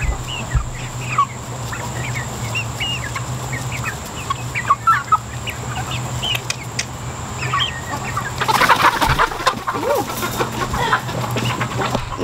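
Chickens cluck and chatter close by while pecking at cantaloupe on a farm, with soft scattered calls over a steady low hum and a brief louder rustling flurry partway through.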